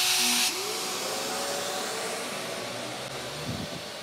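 A Shaper Origin handheld CNC router fitted with an eighth-inch bit runs at speed 5, giving off a loud, steady high-pitched whine and hiss that holds for the whole stretch, with a brief sharper burst at the start.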